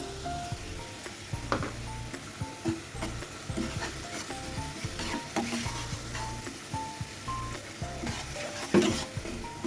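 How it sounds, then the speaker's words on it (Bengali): Spices being sautéed with potato in a pan for a Bengali pabda fish curry, with red chili, turmeric and salt, give a steady sizzle broken by repeated scraping stir strokes, close and moderately loud, with no talking. "কষিয়ে নিচ্ছি একটা আলু দিয়ে"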